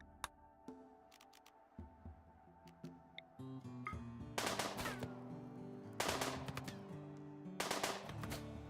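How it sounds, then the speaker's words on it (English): Gunfire in the Rimworld video game as a colonist shoots at a squirrel: sharp, separate shot cracks over a steady game music bed, with denser bursts of shots in the second half. "Shoot the squirrel."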